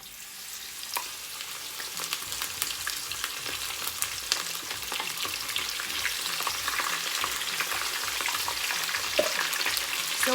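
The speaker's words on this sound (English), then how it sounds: "we're gonna go in and we're gonna fry our fish" Fish fries in hot oil with garlic cloves, a dense steady sizzle with scattered pops, growing slightly louder over time.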